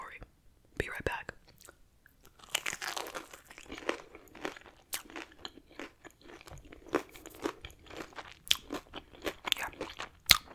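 Close, crisp crunching and chewing of crispy Wingstop lemon pepper chicken wings, with irregular bites and mouth sounds recorded softly at near range, steady through the whole stretch.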